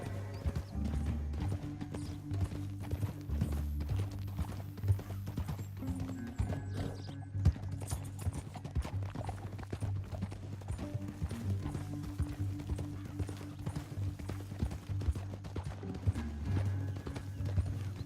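Horses in the Red Dead Redemption 2 video game, hooves clopping in a steady continuous gallop with an occasional whinny, moderately quiet under a low rumbling game soundscape.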